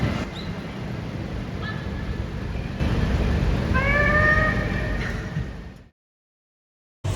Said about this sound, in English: World's biggest cat.